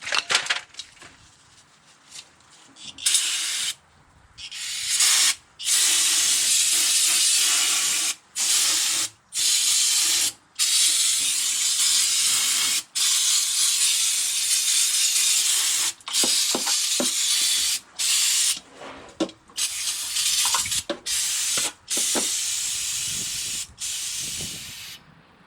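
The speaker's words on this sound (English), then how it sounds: "Get brake clean." Brake cleaner sprayed onto the differential of a Chevy Avalanche, loud sharp hissing bursts repeated many times, some long and some short, separated by brief silent gaps.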